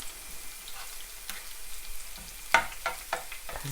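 Purple eggplant and garlic stir-fried in a pan, a soft continuous sizzle broken by a few sharp scraping and tapping hits of a spatula toward the end, close up and with no talk.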